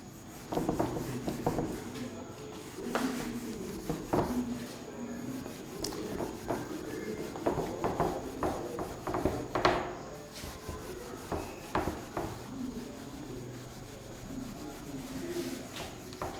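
A board being rubbed clean with a duster in a physics classroom, producing repeated scraping and rubbing strokes in irregular bursts, close and fairly loud, with occasional knocks and no talk.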